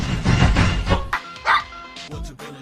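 A voice imitates a dog's barking and yipping, giving a few loud, close, dog-like bursts in quick succession with brief pauses between them, alone without other talk.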